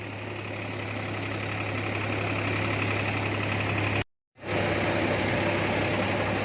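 A tractor-driven wheat thresher's engine runs at a steady idle with a low, even throb and mechanical knocking, loud and close. The sound cuts out for a fraction of a second midway, then resumes unchanged.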